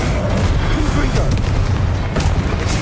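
A Confringo blasting spell in a video game, heavy booming explosive noise with sustained rumble and crackle, loud and close, with a voice calling out among the blasts.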